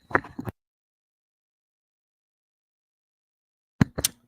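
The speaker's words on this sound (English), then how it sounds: "Sorry, I had to sneeze." A single sneeze from a person, a short sharp burst heard near and alone after a long stretch of silence, with a brief vocal sound before it.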